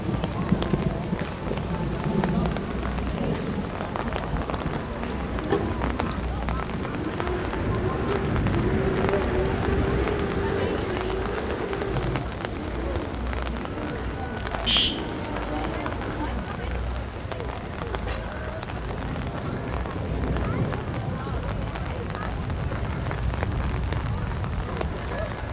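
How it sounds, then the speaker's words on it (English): Rain pours down during a bad storm in Miami over Memorial Day weekend, a dense steady hiss on surfaces throughout, with people talking over it and a brief sharp sound midway. "It's here, guys. The rain is here."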